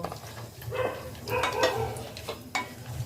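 Cashews and raisins fry in hot ghee with whole garam masala, a close crackling sizzle that swells and fades while occasional sharper clicks from stirring cut through.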